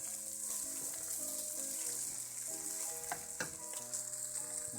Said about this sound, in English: Now we let that roast for a little while.